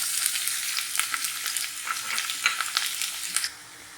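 Chopped onion and green chilli sizzle in hot oil with black cumin seeds, giving a loud, close, crackling hiss with frequent sharp pops that cuts off abruptly shortly before the end.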